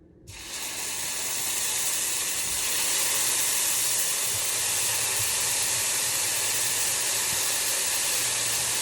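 Bacon and mushrooms sauté in a hot pan, a loud, steady, close hiss of sizzling that starts abruptly and holds evenly throughout, with no talking.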